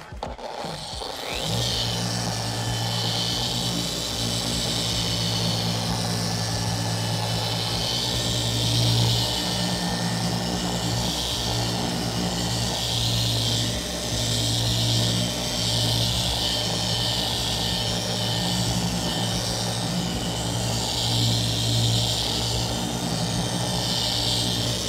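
Car polishing machine buffing scratches out of automotive paint, a loud, steady motor drone with a low rhythmic hum and airy whir running continuously after starting up, with no talking.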